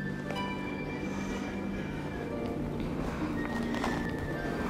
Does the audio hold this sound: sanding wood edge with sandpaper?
no